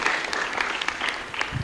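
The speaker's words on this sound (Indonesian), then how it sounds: "Kita beri tepuk tangan dulu ya" Audience applause at a children's pantomime competition, dense and continuous clapping for a short stretch, fairly steady in level.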